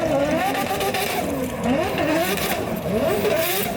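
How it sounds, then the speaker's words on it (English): A Nissan GT-R race car with an RB25 engine snarls and revs continuously up close, its pitch rising and falling through a rough, loud drone. "I think this is the best sounding RB car"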